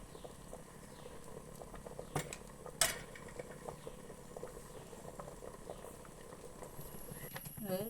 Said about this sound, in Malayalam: കുറച്ച് സമയമായി തിളക്കാൻ തുടങ്ങിയിട്ട്